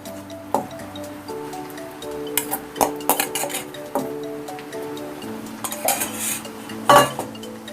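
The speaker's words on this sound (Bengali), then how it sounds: "এবার বেটে রাখা পুরো পাতাগুলো সব কড়ার মধ্যে দিয়ে দিচ্ছি।" Ground drumstick leaves go into a wok with onions and fried black cumin, and a metal spoon stirs and scrapes them, giving repeated clinks and knocks against the pan over a faint sizzle.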